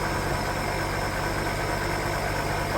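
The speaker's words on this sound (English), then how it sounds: "You hear the pump. The compressor." A Mercedes S430 idles with its pump or compressor running, giving a steady, close, even mechanical hum and whir with no speech.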